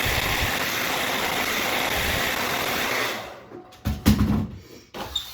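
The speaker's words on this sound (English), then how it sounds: "I'm going to heat it up just for a couple seconds with my hair dryer" A hair dryer blows a steady, loud broadband whoosh for about three seconds while heating an eyelash curler, then cuts off, leaving a few brief handling knocks and rustles.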